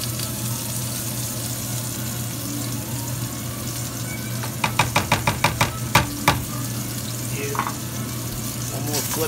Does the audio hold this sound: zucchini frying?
yes